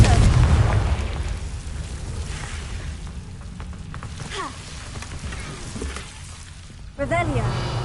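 In Hogwarts Legacy, a Confringo fire spell bursts with a heavy booming explosion that rumbles loudly at the start and fades, followed by another rumbling burst near the end.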